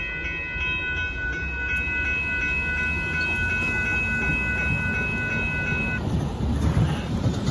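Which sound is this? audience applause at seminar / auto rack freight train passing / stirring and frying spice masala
auto rack freight train passing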